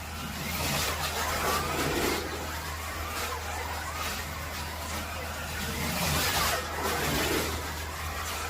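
A Scalextric Ford Escort Mark 1 slot car runs on its track with a steady, fairly loud whirring drone that swells and eases slightly as it laps.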